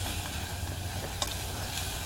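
Savory rice with thyme sizzles in a hot pan with a faint, steady crackling hiss, and there is no talk.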